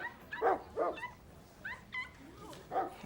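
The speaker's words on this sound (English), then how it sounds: "It's hard to believe that both those are dogs." Dogs bark, yip and whimper in short, uneven bursts, several distinct yelps close by with quieter gaps between them.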